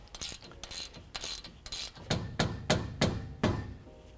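Ratchet wrench hand-tightening an axle nut on a 2021-2023 Ford F-150 during a Fox 2.0 coilover leveling kit install, giving a series of sharp metallic clicks in short bursts, close and moderately loud.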